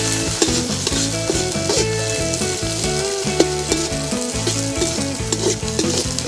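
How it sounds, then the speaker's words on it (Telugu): Sliced onions frying in hot oil for an Andhra-style green chilli chicken give off a loud, continuous sizzle with occasional crackles, heard alongside steady background music. "ఈ ఎర్రగడ్డని గోల్డెన్ బ్రౌన్ వచ్చే వరకు వేయించాలా."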